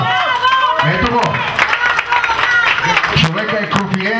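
Applause and clapping at a wedding in Sofia, a lively burst of crowd noise heard beneath loud, overlapping talk and voices close by.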